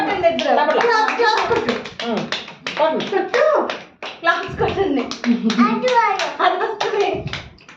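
Family members clap their hands rhythmically at a home birthday celebration, with steady taps mixed with a voice and adults talking throughout.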